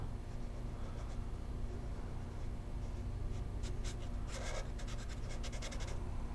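Pen strokes scratching on paper while sketching a ring-tailed lemur's eye, short quick scribbles clustered toward the end over a steady low background hum.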